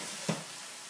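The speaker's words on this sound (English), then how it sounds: "And start mixing it up a little bit. And start getting your onions and your ham hocks and your garlic mixed in with your kale." Onions, ham hocks, garlic and kale sizzle in a pan with one short stirring scrape, a soft, steady frying hiss over a brief moment.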